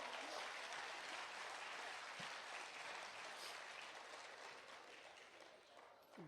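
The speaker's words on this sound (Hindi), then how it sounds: "चाहता हूं एक बार पूरा सदन पीछे तक जोरदार तालियां" A full hall at a Hindi comedy poetry gathering gives sustained, thunderous applause. Dense, steady clapping fills the room for several seconds and eases slightly toward the end.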